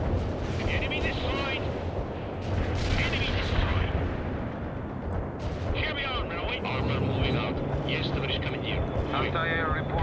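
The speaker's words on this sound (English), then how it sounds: "More enemy helicopters are moving in to attack you, Romanov." Dense rumbling battle noise from the strategy video game World in Conflict, with whirring enemy helicopter rotors and bursts of gunfire, loud and continuous, with electronic chirps and voices speaking over it.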